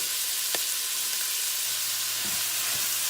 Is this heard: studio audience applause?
no